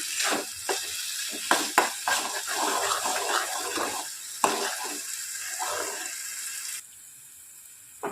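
Flat beans (sim) are sautéed in a pan until the water cooks off and the oil separates. A steady close sizzle runs under repeated scraping stirs, then drops to a faint hiss near the end.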